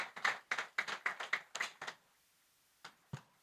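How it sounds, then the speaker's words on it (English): Scattered hands clap in a conference hall to welcome a guest, a burst of about ten sharp, fairly close claps over two seconds, then quiet with two lone claps trailing after. "Please let's welcome her with a resounding applause."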